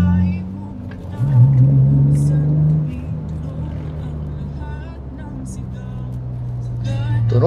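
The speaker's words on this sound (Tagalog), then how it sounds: "Hanip yung tunog din talaga yung muffler." Low, steady engine rumble from a V6 car with a stainless X-pipe muffler, rising briefly in a short rev before settling back to a droning idle, with someone talking over it.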